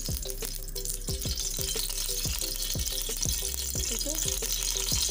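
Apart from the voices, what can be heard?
onion frying in oil for kofta curry gravy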